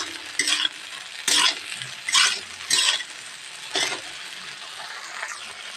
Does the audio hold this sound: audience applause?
no